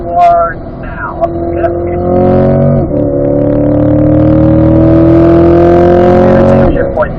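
A 2020 Corvette Z51 accelerates hard on a race track, its engine note climbing steadily with a brief dip at a gear shift before rising again, loud and close throughout.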